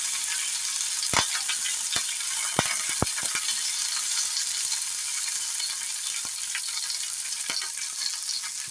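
Onions, green chillies and curry leaves sizzle steadily in a hot pan, with occasional sharp clicks and scrapes as they are stirred.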